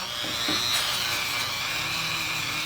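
A Dremel rotary tool runs at medium speed, cutting steadily during cleanup of a Stanley scraper plane; a continuous high whine holds close and fairly loud throughout, with no talk.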